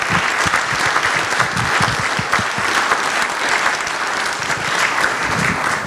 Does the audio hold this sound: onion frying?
no